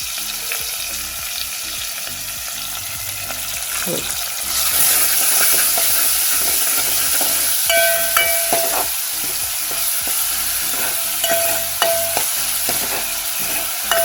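Chopped tomato and masala roast and get stirred in a pan for a traditional Goan dish, a loud close sizzle with scraping spoon strokes and a few sharp metallic clinks, continuous with no talking.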